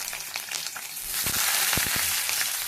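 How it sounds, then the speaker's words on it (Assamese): Onions sizzle and crackle loudly in a hot wok of mustard oil, with a few sharp scraping stirs partway through. "ধুনীয়াকৈ কেৰাহীটো গৰম হোৱাত পিঁয়াজ দিলোঁ।"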